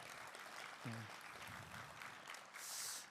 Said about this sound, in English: Please give it one more round of applause for the choir.